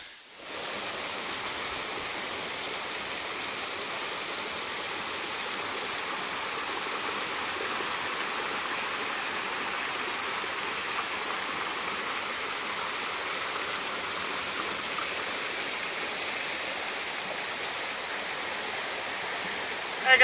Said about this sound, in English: I've got a swimming hole to my front, a waterfall to my back